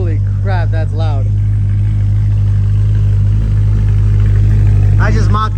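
BMW E92 M3 with a Bomiz valved exhaust fitted and the tips removed, idling with a loud, steady low drone throughout while someone talks over it at the start and end.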